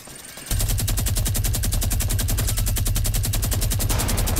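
Rapid automatic gunfire in the video game Fortnite, a loud, continuous rattling burst of evenly spaced shots starting half a second in and lasting nearly four seconds.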